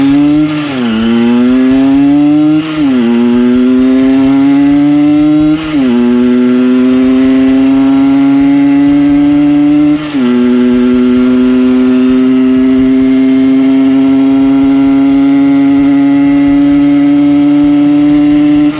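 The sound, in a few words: Fantic Super 6 moped riding up a steep road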